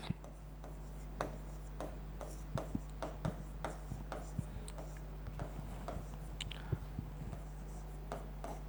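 Marker or chalk scratching on a board during a geography lesson, a string of short tapping and scraping strokes in uneven bursts, close and fairly clear over a steady electrical hum.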